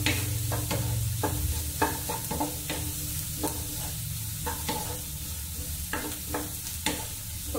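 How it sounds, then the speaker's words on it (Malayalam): Garam masala and ground spices sauté in a pan for egg bhurji, giving a steady sizzle with a spatula scraping and tapping against the pan every second or so, close and alone. "അപ്പൊ അതെല്ലാം കൂടി നമുക്ക് നന്നായിട്ടൊന്ന് വഴറ്റി കൊടുക്കാം"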